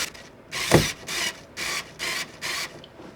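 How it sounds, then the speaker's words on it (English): A power drill drives screws to fix a wall mount for a smart display, heard up close as a short sharp burst followed by four evenly spaced whirring runs of about half a second each, with no talk. "now we're actually going to drill the mount into it."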